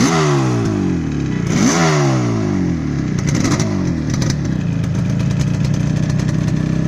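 A Yamaha RD350 two-stroke with a ported five-speed setup revs its exhaust up and down several times, a loud crackling rise and fall that settles into a fast, raspy idle.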